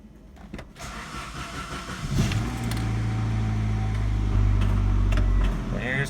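A Saab 900 Commemorative Edition that has sat for a couple of days cranks and fires up from cold. It then settles into a steady idle close to the microphone.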